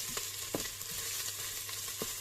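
Onion sizzles in a hot pan for couscous while being stirred, a steady close frying hiss with a few soft scraping strokes on top and no talking.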